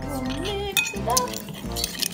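A spoon stirring watery glittery Halloween slime in a bowl, light clinks against the bowl under a voice and an adult talking.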